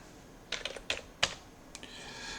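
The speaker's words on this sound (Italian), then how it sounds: "Si può digitare il valore direttamente da tastiera" Someone types a value on a computer keyboard into speaker-design software: several quick, quiet keystrokes in short irregular bursts, close up, with no talking.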